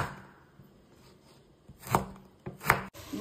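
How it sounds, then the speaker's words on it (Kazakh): Carrots being chopped with a knife on a board: two distinct sharp chopping knocks close up, with quiet kitchen background between them. "Сәбізімізді түрі әдемі болсын деп осылай етіп турайық. Болмаса пышақпен турай беріңіздер."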